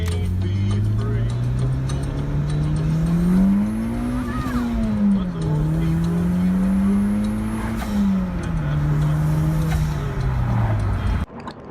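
A modified car's engine revs and accelerates hard, its loud, close note climbing, dipping and climbing again for about eleven seconds before cutting off abruptly.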